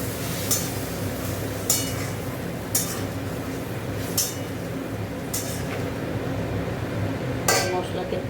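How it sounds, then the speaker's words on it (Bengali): Spice paste cooks in a pan in a home kitchen as hot water is added, with a steady low sizzle under it and a spatula clinking sharply against the metal every second or so. "একটু গরম জল দিয়ে দিয়ে কষবো মশলাটা"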